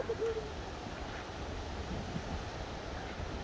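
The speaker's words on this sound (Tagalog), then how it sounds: "Lakas ng hangin oh." Strong gusty night wind at Pigeon Lake Campground in Canada rushes and buffets the microphone in a low, continuous roar, fairly faint and steady throughout.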